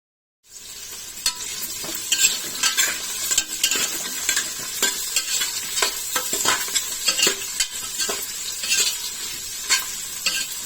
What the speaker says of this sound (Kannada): ಈಗ ಕಟ್ ಮಾಡಿ ಇಟ್ಟಿರೋವಂಥ ಈರುಳ್ಳಿ ಮತ್ತು ಮೆಣಸಿನ್ಕಾಯಿನೆಲ್ಲ ಹಾಕೊತಾ ಇದ್ದೀನಿ